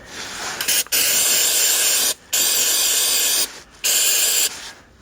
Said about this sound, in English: spray some more in there